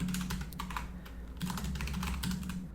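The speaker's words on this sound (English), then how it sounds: "Sorry, I was typing it out." Rapid bursts of typing on a computer keyboard, keys clattering in quick uneven runs with brief pauses between, close and clear with no talking.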